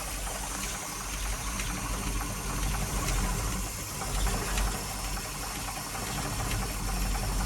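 A motorcycle engine idles steadily after repairs to the oil pressure sending unit and cartridge oil filter, a continuous rough, knocking rumble with no talk over it.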